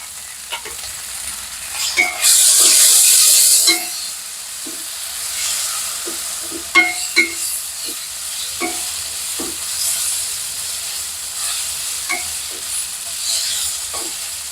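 Ginger-garlic paste sizzling among fried onions in a hot pan, with a burst of loud hissing early on and scattered scraping stirs and clinks against the pan, close up and without talk.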